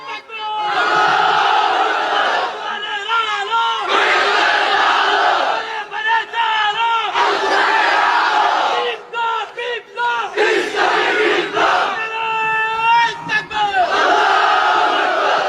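A large crowd at a Bengali Islamic religious gathering shouts slogans in loud, repeated bursts, with strong voices rising and falling together and brief gaps between the chants.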